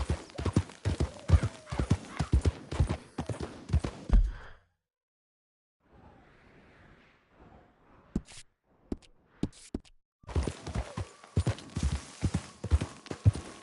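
Video game horse hooves clip-clop in a quick, steady rhythm, stop for a quiet stretch with faint soft noises, then resume clopping.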